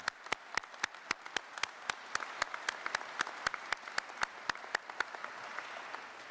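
At a press conference at the 188th Wing Air Base, people honouring veterans clap in a sharp, evenly spaced rhythm, about three claps a second, over a faint room murmur.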